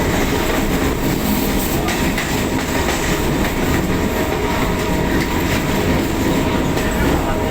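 A suburban train runs between stations in Chennai, its loud, steady rumble and rhythmic clickety-clack carrying on without a break, with occasional faint wheel squeal above the roar.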